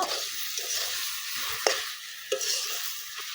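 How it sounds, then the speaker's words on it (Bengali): Garlic greens and potatoes being sautéed in a pan for a West Bengal home recipe, giving a steady close sizzle with scraping stirs and a couple of sharp utensil clicks. "একটু শাকটা আলু আবার এইভাবে একটু কষিয়ে নিব"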